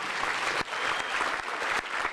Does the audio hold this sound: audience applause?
yes